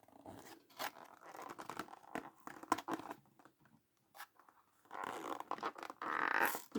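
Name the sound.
tearing open a Hot Wheels booster pack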